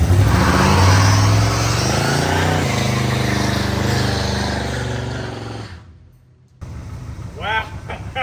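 Freshly rebuilt 350 V8 in an El Camino fires up and revs hard, a loud, dense engine roar with rising and falling revs before cutting out briefly, then restarting with sharp blips.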